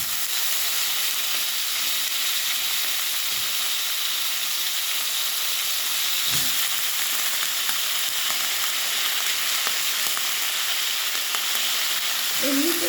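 Vegetables frying in a pan for shukto, a Bengali mixed-vegetable dish, give a steady, loud sizzling hiss that runs for the whole stretch, with a few brief stirring knocks and no talk.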